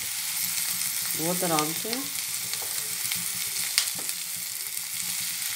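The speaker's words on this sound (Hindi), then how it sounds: "अब ये सारी चीज़ें अच्छे से भून जाएंगी" Green chilli paste and spices fry in a pan for a bottle gourd bharta, giving a steady, close sizzle throughout with a few light stirring knocks, while a voice speaks briefly near the start.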